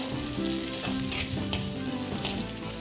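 Onions and green chillies fry in hot oil for a prawn thokku, a close, steady sizzle with faint stirring scrapes and no voices.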